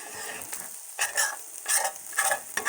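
Shrimp ramen with cherry tomatoes is stirred in a hot skillet, giving bursts of bright sizzling and scraping in an uneven rhythm, close and fairly loud.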